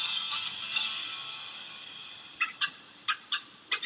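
A wild turkey gobbles at a distance, with a louder call early on followed by several short, sharp bursts in quick succession near the end, set against steady outdoor background noise.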